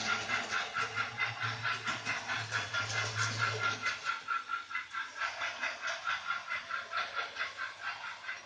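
A model train runs around a layout, its rhythmic clattering wheel beat close and steady, with a low motor hum early on that fades as the train keeps circling.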